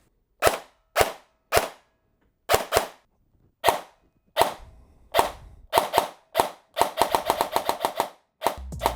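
Airsoft MP5 with a prototype high-torque motor and full-stroke 13:1 gearbox firing semi-auto: sharp, snappy single shots, spaced at first, then quickening into rapid close bursts, loud and close with no talk.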